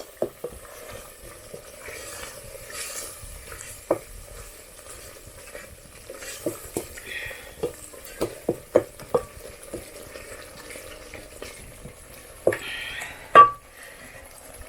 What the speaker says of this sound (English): Adding the salt, we stir again.